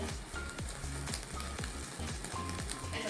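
Butter brushed onto tandoori chicken cooking over heat, giving a steady close crackling sizzle with rhythmic low thumps underneath, no voices.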